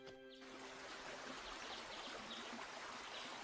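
Continuous rushing river water in a cartoon, a steady broadband flow with no pauses, filling the whole scene at an even, moderate level.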